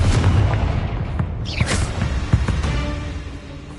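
The Confringo explosion spell in Hogwarts Legacy, a fiery burst with a whooshing sweep followed by a few scattered thuds and pops amid ongoing game combat noise.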